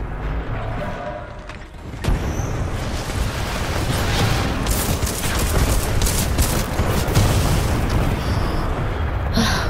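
A grenade explodes in the video game Titanfall 2: a loud blast erupts and turns into a sustained, dense roar of booming and crackling fire that lasts for several seconds.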